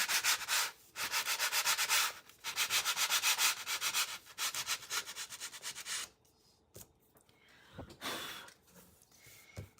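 Hand sanding of a vintage children's book board with 100 grit sandpaper: brisk rhythmic back-and-forth rasping strokes in close bursts, pausing around the sixth second before a few quieter strokes.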